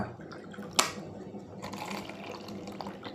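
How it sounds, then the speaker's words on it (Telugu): Water splashes and trickles into a glass, starting with a sharp splash and continuing as a brief pour. "ఇందులో కొన్ని వాటర్ తీసుకుందాం."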